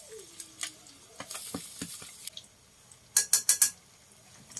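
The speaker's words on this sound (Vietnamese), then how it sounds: "Để giờ dầu nó cũng nóng rồi, mình cho vô muỗng muối" A spoonful of salt goes into hot oil in a pot while cooking hủ tiếu, giving a soft sizzle with stirring and clinks of utensils against cookware, ending in several sharp metallic scrapes.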